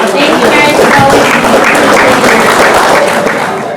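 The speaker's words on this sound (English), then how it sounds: "let's quit the clapping stuff" Dense, loud applause fills a high school fall sports banquet hall, sustained clapping from a large room of people that tapers slightly at the end.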